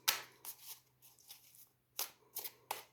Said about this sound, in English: we will see what the cards bring up for this situation as I shuffle